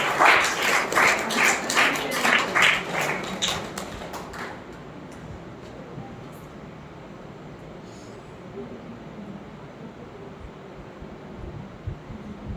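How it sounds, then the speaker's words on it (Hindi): Clapping from an audience at a diet-system seminar in Matar, a burst of dense applause over the first few seconds that quickly fades away, leaving a quiet, noisy room. "अरे जोर से ताली बजाओ"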